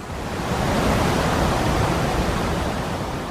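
A mountain torrent rushes in a steady, dense roar of turbulent water, constant and fairly loud throughout, with no voices.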